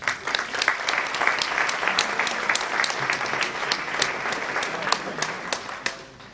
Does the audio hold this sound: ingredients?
no